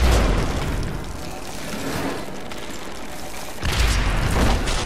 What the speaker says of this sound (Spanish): ¡Toma! Explosión cadena.